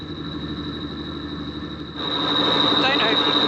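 A steady boat engine drone runs throughout with a constant high whine, growing louder and rougher about two seconds in, with a voice talking over it.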